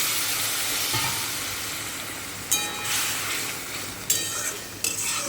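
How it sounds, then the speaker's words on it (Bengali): Carrots frying in a pan hiss with a steady bright sizzle that fades slightly, then three sudden bursts of louder hissing as hot water is poured in; close, no talking. "তো চলো গরম জলটা এর মধ্যে অ্যাড করে দিচ্ছি যাতে গাজরটা আর একটু সেদ্ধ হয়ে যায়"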